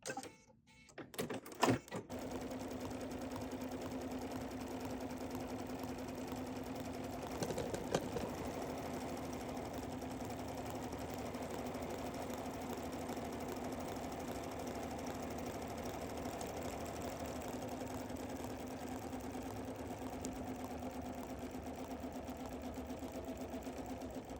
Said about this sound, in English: now we're going to stitch color number 3